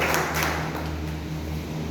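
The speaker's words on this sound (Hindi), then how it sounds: "तो एक बार जोर तालियों के साथ जो है स्वागत" An audience at a Bhamashah Jayanti traders' welfare day gathering claps in a dense, steady round of welcoming applause over a low electrical hum, with no voices on top.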